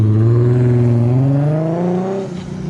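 A tuned Nissan RB25DET engine of about 400 hp, smoking blue, drones loud and close, its pitch climbing steadily as it revs higher, then dropping off abruptly near the end.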